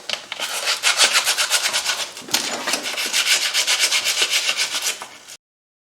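Rapid back-and-forth scrubbing on corroded rear brake metal of a 2005 Buick Rendezvous makes a steady, gritty rasping close up, in quick rhythmic strokes for about five seconds before stopping abruptly.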